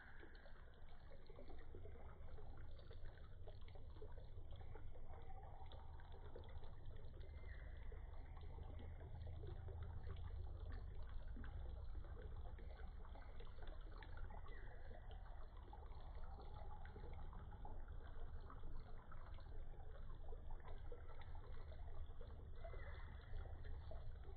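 Water trickles steadily through a small spring-fed brook trout creek, a soft continuous babble that stays even and faint for the whole stretch with no voices.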